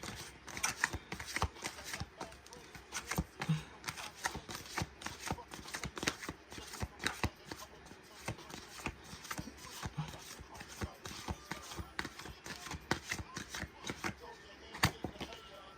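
Tarot cards are shuffled close up in quick, irregular riffles and soft slaps that run steadily throughout, fairly quiet and with no talk over them.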